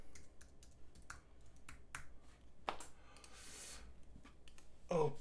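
Soft, scattered key clicks from a computer keyboard as a password is typed, quiet and uneven with small gaps between presses, over a low background hiss.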